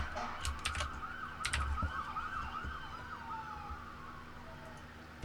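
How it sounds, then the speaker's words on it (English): A siren wails in rising and falling sweeps, distant and fairly faint, with a few sharp clicks and taps close by. "We got a siren outside."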